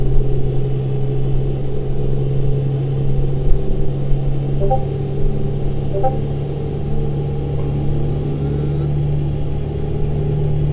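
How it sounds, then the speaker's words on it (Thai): Steady low diesel drone of a 605 hp, 18-speed Peterbilt 388 tow truck in American Truck Simulator, cruising on a Montana highway from Glasgow to Glendive, with a constant rumble and slight engine swell. "เครื่องยนต์605แรงม้า"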